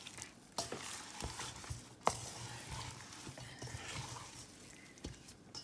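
Chicken with chilli and cornflour being stirred by hand, producing soft wet squelches and occasional clicks against a bowl, faint and close, with no talking.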